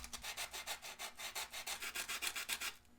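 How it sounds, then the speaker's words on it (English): A sandpaper pad scrubs rust off the metal edging of a Pikachu N64 console in quick, even back-and-forth strokes, about a dozen rasping passes, close and fairly quiet with no talk. "Now I'm going to use, very carefully, this sandpaper pad. And try to just get some of the rust off of this metal edging"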